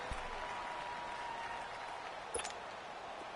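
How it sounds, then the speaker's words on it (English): Crowd applause from the sidelines of a football video game on PS4, a steady diffuse clapping wash at moderate level, fairly faint and distant throughout, with a brief brighter burst partway through. "That's why you hear that clapping on the sidelines, right?"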